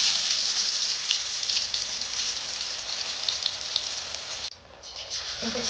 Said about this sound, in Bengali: ব্যাটারটা লাগিয়ে দিচ্ছি এবার তেলে ছেড়ে দিচ্ছি